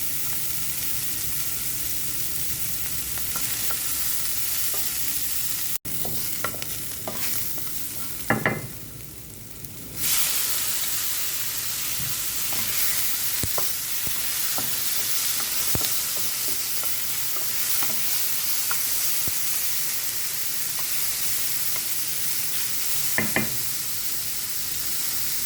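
Garlic frying in hot oil in a wok-style pan, a loud continuous sizzle that dips briefly and then resumes, with occasional clatter of a utensil.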